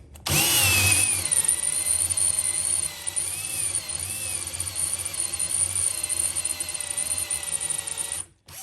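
A cordless battery drill whines at a steady pitch for about eight seconds while it chamfers the edges of holes in a cleaver workpiece, then it stops abruptly.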